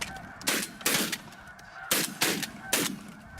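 Snow geese honk during a goose hunt, several loud close calls in a broken rhythm with sharp bursts in between that may include gunfire.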